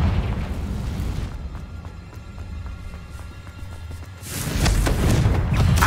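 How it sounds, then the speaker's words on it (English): Confringo spell blasts in the Hogwarts Legacy video game, with a heavy explosive boom at the start and another louder burst near the end, separated by quieter crackling debris. "Accio! Revelio! Confringo!"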